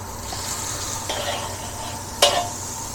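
Margarine sizzles and crackles as it melts in a wok, a steady hiss with a couple of sharp spatula scrapes against the pan.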